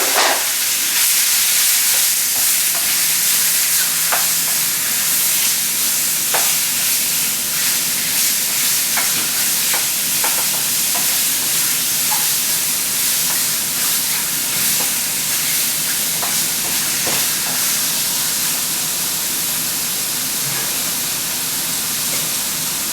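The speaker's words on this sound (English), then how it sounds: "Okay, so my oil is smoking. I'm going to add my meat and step back." A constant broadband hiss of meat frying in smoking-hot oil for a stir fry, with occasional crackles and pops, running steadily for a long stretch without speech.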